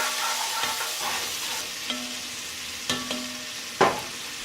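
Beef bottom round pot roast being stirred with beef bouillon base in an oval roaster, with soft scraping and a few brief utensil clinks against the pot over a low sizzle, close and moderately quiet.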